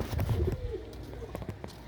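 Soft, low cooing from pigeons close by, mixed with light rustling and a brief murmur of a voice, as the pigeons are bathed with Tikkil powder.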